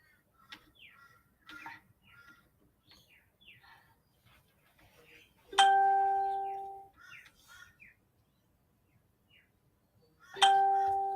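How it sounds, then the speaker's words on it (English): A phone starting up gives a run of small chirping notification blips, then two loud, clear ding tones several seconds apart, each ringing out and fading slowly. "My phone's going to ding about 100 times."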